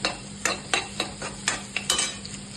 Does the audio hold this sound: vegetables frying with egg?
yes